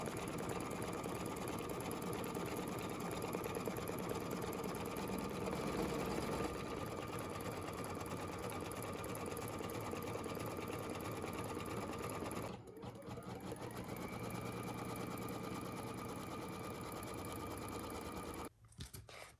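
An embroidery sewing machine stitching an in-the-hoop cotton zipper purse runs at a loud, steady, close whir for most of the stretch, with a short pause partway through before it stops near the end.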